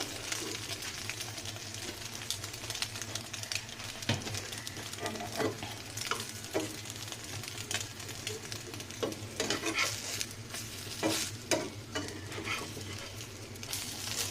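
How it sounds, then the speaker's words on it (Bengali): Egg-dipped slices of bread toast fry in a pan, making a continuous gentle sizzle with scattered light crackles and the scrape of stirring or turning, heard close and without speech. "সুন্দর করে সমস্ত নাস্তাকে আমি ভেজে নিচ্ছি।"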